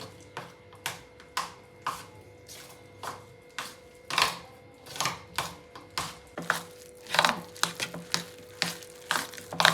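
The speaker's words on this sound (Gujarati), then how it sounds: "ચાલો બધું આને મિક્સ કરી લઈએ" Mashed potato mixture for aloo tikki being worked together by hand, producing steady rhythmic squishing and slapping strokes, close and fairly loud, with no talking.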